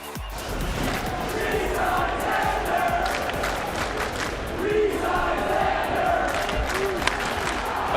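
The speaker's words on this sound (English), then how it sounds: "hits this bomb, and then the chants coming from the crowd" Fenway crowd chants for Red Sox shortstop Xander Bogaerts after his home run, a dense, sustained roar of many voices filling the ballpark in rhythmic waves, with scattered claps cutting through.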